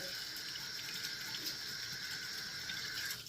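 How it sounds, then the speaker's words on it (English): Water from a kitchen tap runs steadily into a sink while hands are washed after handling raw turkey burger meat, a constant soft gushing hiss with no talking. "I'm actually going to wash my hands really quick because I touched this meat"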